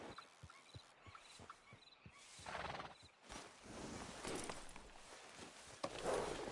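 A horse in Red Dead Redemption 2 clip-clops in a steady walking rhythm, then lets out a whinny amid low ambient noise, all faint and fairly close with no talking.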